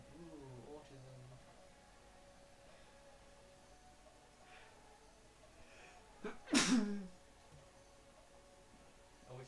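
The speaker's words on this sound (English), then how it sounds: "I was thinking we use that sneeze as a transition between cuts" A single sharp sneeze bursts out around the middle of a casual podcast recording, preceded by quiet voices and room noise.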